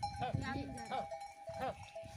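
Goats from a village flock near the Pakistan border in Jaisalmer, Rajasthan, give a few short bleats close by, spaced about a second apart, while people talk over them.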